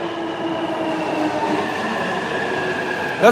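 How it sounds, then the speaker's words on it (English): A train bound for Tokyo rolls past at a Japanese railway station, a steady loud rumble of wheels and carriages with a brief squeal at the end. "That's the train going into Tokyo."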